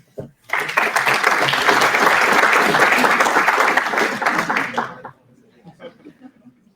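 Audience applause at a security and intrusion hackathon, a dense burst of clapping that rises sharply, holds steady for about four and a half seconds, then stops abruptly, leaving faint voices and scattered chuckles.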